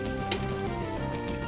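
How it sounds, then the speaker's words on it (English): Fried rice sizzles in a hot oiled pan, a steady close hiss of frying running continuously with no break. "And you'll know it's hot because when you drop your stuff in, it'll sizzle."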